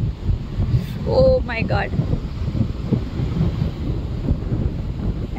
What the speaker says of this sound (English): crazy, crazy wind